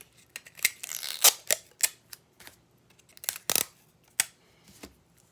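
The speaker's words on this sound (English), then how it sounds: "I have a little bit of Scotch tape." Scotch tape pulled off the roll while a chocolate nugget is wrapped in paper, giving a string of close, sharp crackling snaps and tearing bursts with short gaps between them.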